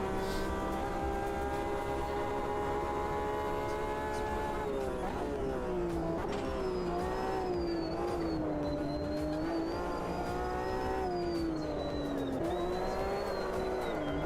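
Porsche race car engine in the racing game Assetto Corsa Competizione, with a loud continuous tone whose pitch rises and falls through gear changes across the whole stretch.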